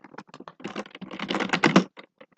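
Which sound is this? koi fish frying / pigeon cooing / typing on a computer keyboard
typing on a computer keyboard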